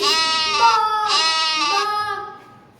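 A goat gives one long, loud, quavering bleat up close, steady for about two seconds before fading out, with nothing else heard alongside it.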